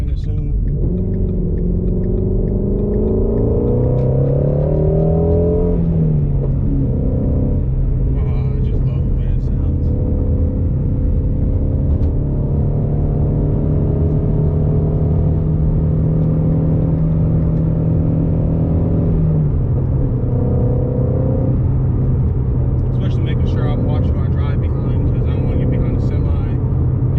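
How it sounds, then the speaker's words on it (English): Ford Shelby GT350 merging onto a highway, its engine note rising as it accelerates and then settling into a steady cruising drone with road rumble throughout, loud and close. "right now I'm about to merge onto the highway"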